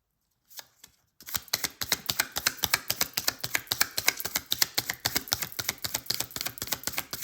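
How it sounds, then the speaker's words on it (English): Tarot cards are shuffled loudly and close up, a steady rapid clatter of slaps and clicks that runs on continuously after a brief start. "I do apologize for my loud shuffling."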